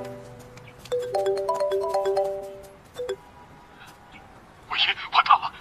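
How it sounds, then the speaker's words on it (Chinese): A phone ringtone plays in a repeating melodic pattern of bright tones for about two seconds, then stops, followed by a brief beep and a short burst of voice near the end. "电话。"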